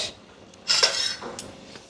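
Metal utensils and dishes clatter together in a sink basin in a short, close burst of bright clinks, then a few fainter knocks as they settle.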